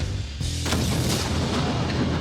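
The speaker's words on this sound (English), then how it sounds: "in a cannon to fire a 6-inch nail" A black powder cannon fires a 6-inch nail with one sharp, loud blast that rolls into a lingering rumble and echo, heard alone with no talk.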